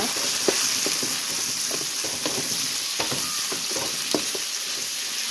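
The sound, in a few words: bitter gourd frying in oil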